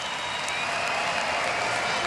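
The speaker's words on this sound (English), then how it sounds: "And the crowd love it." Boxing crowd cheering and applauding after an amateur bout win, a steady roar of clapping and crowd noise from a large arena, loud and continuous without commentary on top.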